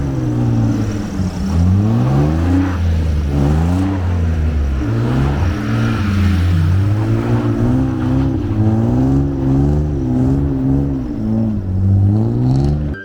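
A BMW 118d with a 1.8-litre diesel engine revs loud and close while drifting on snow, its pitch rising and falling steadily as the throttle is feathered, with no break in the engine sound.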